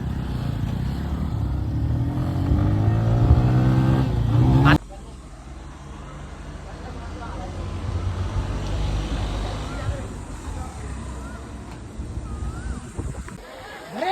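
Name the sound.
vehicle being driven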